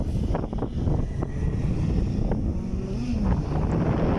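Loud, continuous wind buffeting the microphone with a low roaring rumble, steady throughout, with faint engine tones in the background, on Marilaque Highway in Tanay, Rizal.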